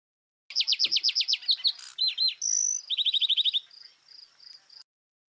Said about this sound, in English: And that's the lark sparrow,